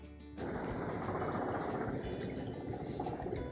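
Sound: aeroplane flying overhead in London

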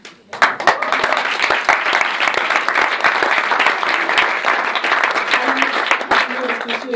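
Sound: audience applause after a premiere

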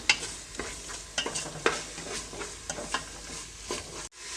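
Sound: tomatoes frying in a pan until soft

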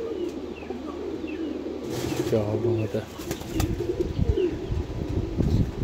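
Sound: pigeons cooing

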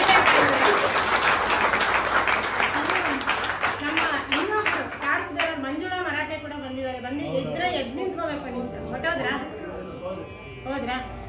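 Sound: audience applause

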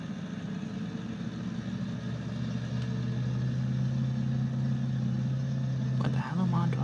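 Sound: vehicle engine while driving in Farming Simulator 19 video game

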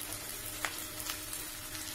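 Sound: sliced okra frying and stirred in pan with onions

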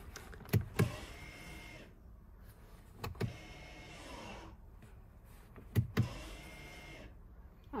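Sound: Mercedes B-Class W246 handbrake being tested

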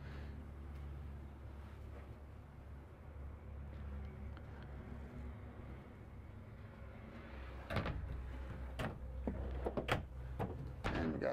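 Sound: drawers opening and closing

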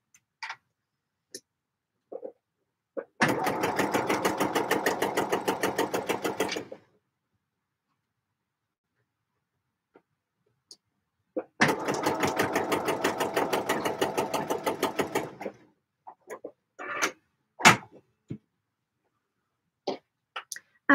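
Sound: sewing machine stitching fluffy lining

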